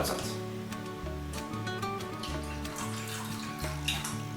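Milk being poured into cream in a small pot in a kitchen, a steady liquid trickle with soft gurgling and faint clinks, moderately quiet throughout.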